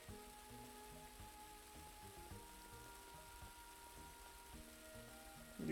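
Steady, soft rain patters continuously in the video game Little Big Adventure 2 against a quiet background, with faint tonal music-like hum underneath.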